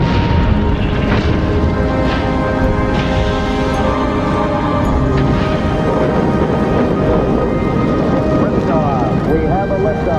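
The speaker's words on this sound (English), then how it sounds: "We have a liftoff, 32 minutes past the hour. Liftoff on Apollo 11." Saturn V rocket at the Apollo 11 launch: a loud, continuous broadband roar fills the whole stretch, steady and unbroken, with crackling rumble throughout and a broadcast announcer's voice over it.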